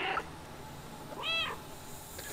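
One short, clear cat meow from the Stray video game sounds mid-way over a steady background hum of game ambience.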